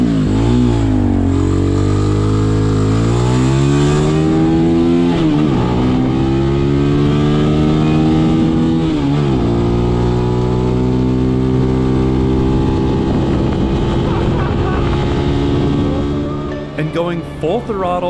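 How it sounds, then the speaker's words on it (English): Cheap Walmart sport motorcycle held at full throttle up a mountain road, a loud, close engine howl whose pitch climbs through several gear changes, with heavy wind noise throughout. "it's time to open up the throttle and see if this bike has what it takes to make it to the top"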